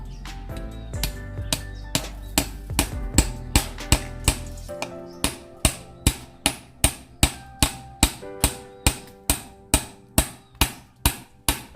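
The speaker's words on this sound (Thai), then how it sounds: "เหล็กเส้นก็ไม่ต้องยาวมากนะครับประมาณ4-5 นิ้วก็ใช้ได้ครับ เราจะทำการตอกลงไปแบบนี้เลยครับ" A short steel rod, about four to five inches long, is hammered into a jackfruit tree trunk outdoors, with a long run of sharp, evenly spaced metallic strikes that grow steadier and more regular partway through.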